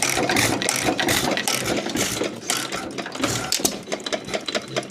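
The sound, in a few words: 1923 Alamo hit-and-miss stationary engine running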